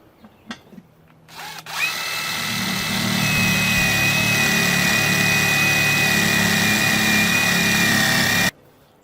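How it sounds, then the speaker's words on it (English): A power drill with a step bit revs up after a few clicks and runs at a steady high whine for about seven seconds while drilling a plastic bucket, before cutting off abruptly. "Now this is a step drill where each time you drill it, the hole gets a little bit bigger"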